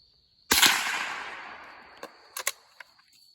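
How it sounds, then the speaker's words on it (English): A suppressed .22 LR 40-grain subsonic round fired at 1500 feet per second into two sheets of plexiglass and a piece of sheet metal: one sharp close crack with a fading ring, then several small metallic ticks and rattles. "I shot down here towards the bottom, 1500 feet per second. It went through 2 pieces of plexiglass and dented the metal"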